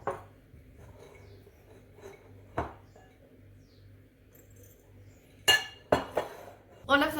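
A knife cuts jalapeño chilies on a board, with sparse soft taps early and a few sharper, louder chops and clinks near the end against a quiet background.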